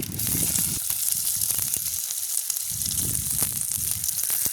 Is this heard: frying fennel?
yes